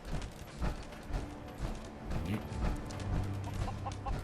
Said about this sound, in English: There's chickens. There'll be chickens here.